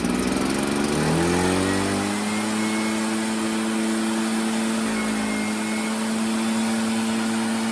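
A small two-stroke leaf blower engine runs after a carburetor repair and fuel line replacement, revving high at first, then dropping and settling into a steady, buzzy idle that continues close up.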